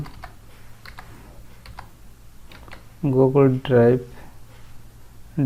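Keystrokes on a computer keyboard tap out a web address in a browser search bar, a sparse run of light clicks at close range, with a short burst of speech partway through.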